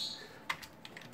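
Quick, faint typing on a computer keyboard indoors, a few soft key clicks in close succession with no talk.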